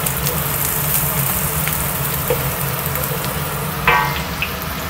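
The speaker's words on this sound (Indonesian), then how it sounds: "Tumis sampai naik bau ya." Prawn sambal stir-frying in a pan, a steady dense sizzle and crackle of hot oil, close and continuous, with occasional scrapes of stirring.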